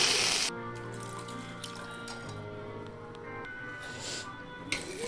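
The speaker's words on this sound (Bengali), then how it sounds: "এর মধ্যে দিয়ে দেব উষ্ণ গরম জল" Warm water pours steadily into a mustard-paste fish curry made with small mourala fish and raw mango, a continuous close splashing over a faint background hum.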